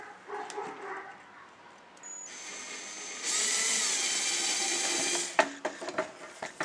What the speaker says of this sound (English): now we're going to drill the other hole.